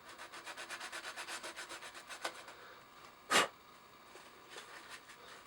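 Sandpaper rubbing over the painted body of a small-scale Toyota Hilux RC crawler, a steady rhythmic back-and-forth scratching that fades to quieter strokes, with one louder scuff midway, close and fairly soft.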